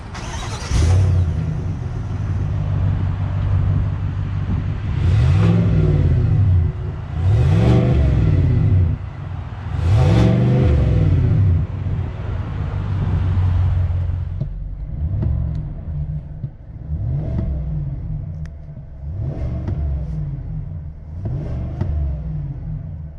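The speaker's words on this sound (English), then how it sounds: "let's go ahead and hear how that V8 sounds" A 2024 Chevrolet Suburban Z71 V8 is revved repeatedly from idle, several loud rising blips in a row, the later ones shorter and lighter, heard up close with no talking.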